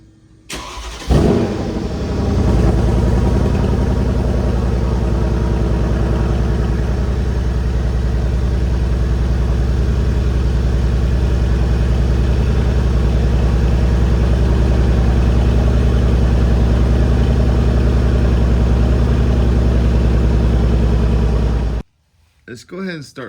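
A Mercedes CLS63 with its stock exhaust starts with a quick crank, then settles into a steady, deep idle rumble that continues for about twenty seconds before cutting off.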